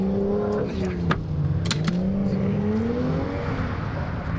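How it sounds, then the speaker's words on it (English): A Volvo 740 drifts with weighted rear and worn tires, its engine holding a loud, wavering revving drone with brief sharp tire chirps and squeals cutting through. "Drifting with tires in the back."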